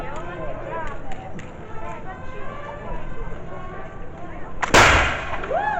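A muzzle-loading weapon fires at a pirate festival weapons demonstration: one sharp, loud blast cuts in near the end, after a stretch of people talking.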